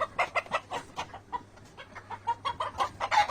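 Five-month-old Fayoumi laying hens cluck softly in short, uneven bursts, fairly faint, with a low steady hum in the background.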